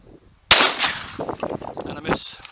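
A single loud shotgun blast fired while hunting with an English Setter pup, a sharp report that booms and tails off, followed by a voice speaking briefly at the end.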